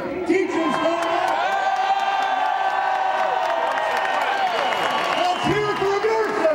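A large crowd cheers and whoops for teachers at a public gathering, a loud sustained roar with scattered clapping and shouts running throughout, easing slightly near the end.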